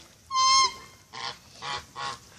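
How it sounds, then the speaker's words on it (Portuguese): Geese honking close by at a rural family property, one long nasal honk followed by three shorter harsh calls in quick succession. "Olha os gansos, mano."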